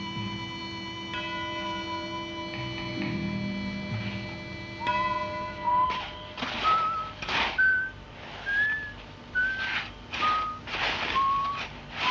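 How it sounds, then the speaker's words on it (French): A series of short rising whistled notes, about seven in a row with brief gaps, fairly clear against a low steady background hum. "Non, arrête de siffler, tu me casses les oreilles."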